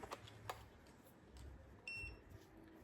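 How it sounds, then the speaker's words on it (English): Nilight portable jump starter, a 2000A car battery booster, gives a short electronic beep as its cables are plugged in, a brief close tone after light handling clicks and knocks. "You can see it beeps"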